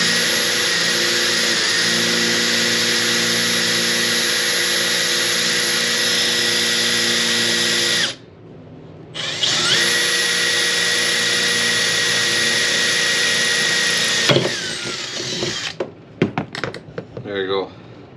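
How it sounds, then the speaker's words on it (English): A drill fitted with a 7/32 bit bores a hole through a plug in an old oil pump from a Toyota 3S/5S engine, a loud steady whine running for about eight seconds, pausing briefly, then resuming before it winds down. "now I gotta drill a hole in the middle of it."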